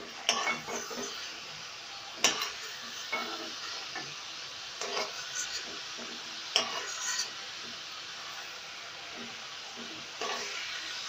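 Fried prawns being lifted one by one out of hot oil with a utensil, a soft continuous sizzle broken by scattered scraping clinks against the pan, fairly quiet and close.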